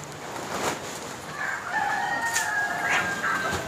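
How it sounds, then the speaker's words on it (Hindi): Double FG desi chickens of the Croiler breed crow and cluck inside a farm shed, a drawn-out crow rising over softer clucks and close hen calls. "एक और शेड है बसंत जी का, जिसमें बसंत जी ने डबल FG जो कि क्रॉयलर प्रजाति है देसी मुर्गी की, उसका भी पालन किया हुआ है।"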